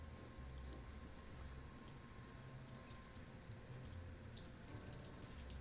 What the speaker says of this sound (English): A lot of people are typing.